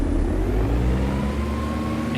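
Diamond DA-62 twin-engine aircraft in X-Plane 11 taxiing with brakes released, a steady mid-pitched engine drone and whir running continuously and fairly loud with no talk.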